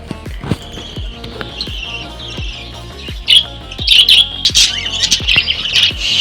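Pet birds in a home aviary squawk and chirp sharply in bursts, loud and close, with rapid shrill calls overlapping toward the end above a steady low hum.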